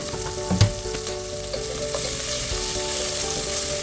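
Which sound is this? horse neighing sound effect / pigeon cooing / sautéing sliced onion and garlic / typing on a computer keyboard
sautéing sliced onion and garlic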